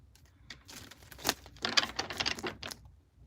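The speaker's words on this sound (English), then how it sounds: "I always just got to do my two shuffles" A deck of tarot cards shuffled by hand, quick bursts of riffling and soft slapping clicks coming in uneven clusters, close and fairly quiet.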